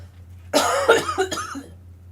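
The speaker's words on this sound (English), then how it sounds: "I'm trying to have a coughing fit for some reason." A short burst of several harsh coughs, close and loud, lasting about a second before fading into quiet.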